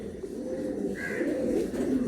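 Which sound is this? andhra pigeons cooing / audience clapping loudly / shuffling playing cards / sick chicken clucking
andhra pigeons cooing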